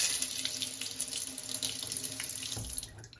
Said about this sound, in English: When I don't have this aerator on, the water comes streaming out.